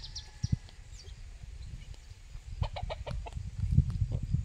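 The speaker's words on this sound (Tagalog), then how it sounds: "ito ang aking native chicken. Yan po siya." A native chicken clucks on a farm in short, close bursts over a quiet outdoor background.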